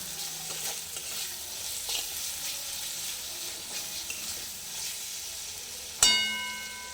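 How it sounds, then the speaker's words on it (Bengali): Mutton curry masala with salt fries gently in a pan over low heat, a soft sizzle with intermittent stirring scrapes, then a sharp metallic clink rings out near the end. "আমি এই কম আঁচেই ভালো করে লবণটা দিয়ে মশলাটা কষিয়ে নিচ্ছি।"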